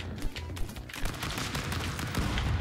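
Gunfire in the video game Stick Fight rattles in rapid, uneven bursts of sharp shots at moderate loudness, overlapping one another with no talking.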